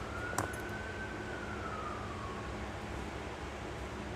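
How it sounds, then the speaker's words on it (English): An emergency vehicle siren wails as it passes outside a house, a single slow rising and falling tone heard at moderate distance over a steady background hum. "I've got a siren."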